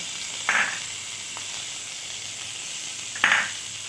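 Spices such as black pepper dropped into hot oil give two short, bright hissing sizzles a few seconds apart over a soft, continuous frying hiss, close and moderate in loudness.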